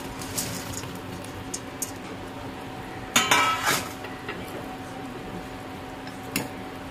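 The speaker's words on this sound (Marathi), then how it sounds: "त्याच्यानंतर आपण ही भजी याच्यामध्ये टाकायची" Fried fritters (bhaji) dropped into kadhi in a pot with the heat off: soft clinks and light splashy plops, one louder wet splash in the middle, over a faint steady background hum.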